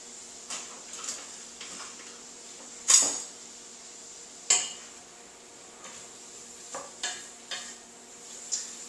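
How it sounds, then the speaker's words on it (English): Shallots cooking down in a pan for an oyster patty dish, with a faint steady sizzle under a series of sharp metallic utensil taps and scrapes against the pan, close by and with no talk. "Shallots, they can go ahead in there. I'm just going to cook these down."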